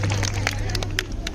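Crowd applause welcoming a woman onto the stage at the BioSpectacle 2023 event in Chandigarh's Botanical Garden, with scattered claps and crowd murmur over a steady low hum.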